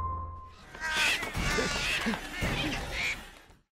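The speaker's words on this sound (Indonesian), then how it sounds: "Saat menurunkan satu persatu bibit, Roy diganggu oleh banyak burung gagak" Several crows caw repeatedly in a loud, overlapping chorus, harsh calls rising every half second or so, in a film scene where a man lowering seedlings one by one is harassed by a flock of crows.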